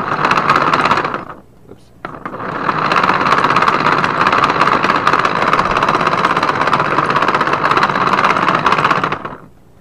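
A lobe blower runs with a loud, steady rushing drone, cuts out briefly near the start, restarts and keeps going before stopping at the end.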